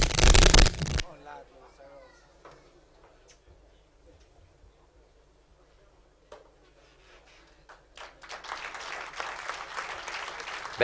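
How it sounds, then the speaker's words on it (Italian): Applause from the audience at a Sardinian volleyball awards gala: a loud burst at the start, then quieter room noise with a voice talking, and clapping rising again toward the end. "un grosso applauso alle nostre atlete e anche alle società"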